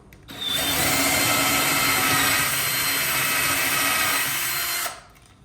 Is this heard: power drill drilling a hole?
yes